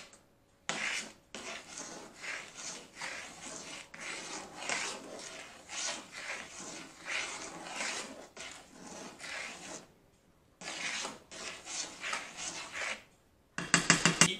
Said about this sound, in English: Make sure you keep stirring this.